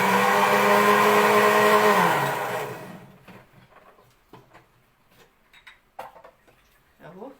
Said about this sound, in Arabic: الخليط بتاعي اهو اللي في الخلاط ضربته